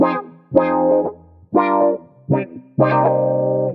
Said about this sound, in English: on the pedal board, we've got the Auto Funk plugin. It sounds a bit like this.